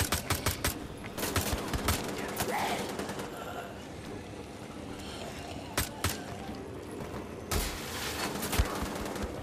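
Bursts of rapid automatic gunfire in Wolfenstein: The Old Blood, loud crackling volleys separated by short pauses and mechanical clatter.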